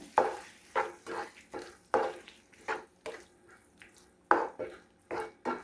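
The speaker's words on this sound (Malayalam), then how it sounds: "എല്ലാം കൂടെ ഒന്ന് മിക്സ് ചെയ്യാം" Lime pickle with sugar being stirred in a pan, with about nine rhythmic scraping, sloshing strokes in steady succession, close and moderately loud, no talking.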